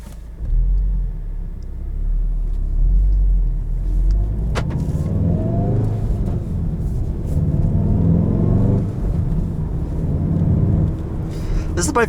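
A 2017 Volkswagen Golf R Mark 7 with a manual gearbox is heard from inside the cabin, its engine rumbling loud and steady as it pulls and revs through a couple of gear changes while road noise persists throughout.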